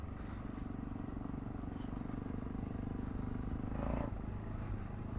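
A Voge DSX650 motorcycle fitted with a Dominator aftermarket exhaust idles and runs steadily with a deep, rumbling exhaust note, close and loud throughout, with a brief rise in revs near the end.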